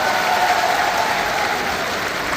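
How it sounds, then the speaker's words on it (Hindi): A large crowd at an outdoor Congress election rally in Jodhpur applauds loudly and steadily for a candidate, a dense continuous clapping that fills the whole moment without voices. "हमारी जोरदार ताली हमारे उम्मीदवार करण सिंह जी के लगाने के बाद"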